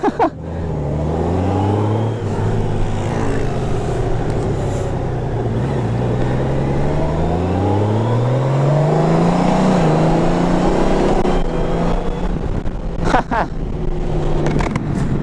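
A 2019 Honda Goldwing Tour DCT motorcycle on a test ride, its engine droning steadily and loud throughout with rising and falling pitch as it accelerates and shifts, wind buffeting mixed in.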